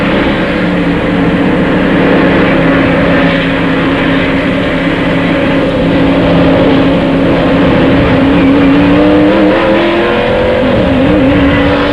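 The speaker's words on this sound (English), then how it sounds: "Now he's free to accelerate and go as fast as possible." A NASCAR stock car at the 1995 First Union 400 pulls away hard after a stop-and-go pit penalty, its engine roaring loud and steady with rising pitch over continuous track noise.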